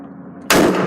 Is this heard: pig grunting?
no